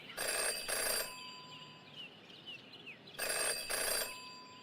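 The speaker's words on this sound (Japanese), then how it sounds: "never to ignore a ringing phone" Electronic telephone ringing in the detective adventure game Jenny LeClue: Detectivu, two loud double-burst rings separated by a quieter pause with faint chirpy game ambience, no one talking.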